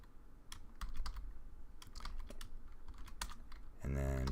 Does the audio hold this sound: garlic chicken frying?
no